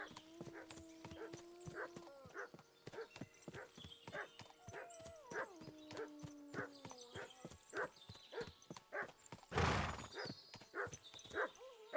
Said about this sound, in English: The howling wolf sound should help you sleep.